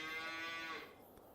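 Cattle moo in Farming Simulator 25, one drawn-out low call that fades after under a second, moderately close in a quiet field.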